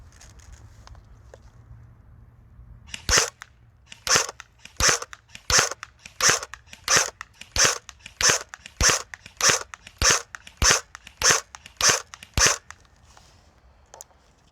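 An FN Herstal SCAR L airsoft rifle is fired on a range test, giving about fourteen sharp, evenly spaced shots in a steady rhythm. A low background hum runs underneath.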